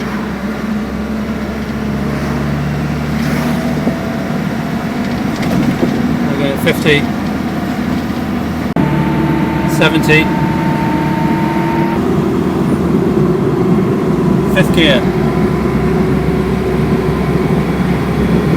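Steady road and tyre roar with a faint underlying hum from a car cruising at speed in fifth gear, continuous throughout while someone talks over it.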